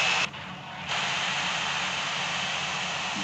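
MiG-19 jet engine roaring at full power on the takeoff roll in the video game Gunship 3, a steady broadband rush that dips briefly then swells back loud and holds.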